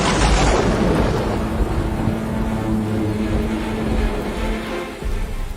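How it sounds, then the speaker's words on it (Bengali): A thunderclap crashes loudly at the start, then rolls on as a long, heavy rumble amid rain, slowly fading but still booming near the end. "আকাশ ভেঙে বাজ পড়ল তার মাথায়।"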